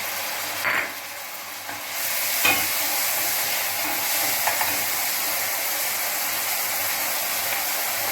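Onions sautéing in a pan for a vegetable bulgur pilaf, a steady close sizzle with occasional stirring scrapes and clicks of the utensil against the pan.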